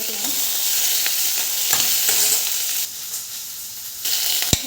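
Onion, garlic and green chili sautéing in oil in a kadai, a steady close sizzle with a few clicks of stirring.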